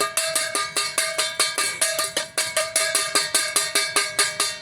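Rapid, steady strikes on a plate to call animals, each hit ringing out bright and metallic in an even, close, loud rhythm with no talking.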